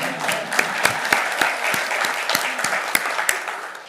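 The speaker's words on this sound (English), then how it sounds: "Go ahead, if you want to clap, I don't mind." Steady applause from the audience at a cooperative's 2025 district member meeting and election, a dense patter of many hands with occasional sharper individual claps, sustained for several seconds with little talk.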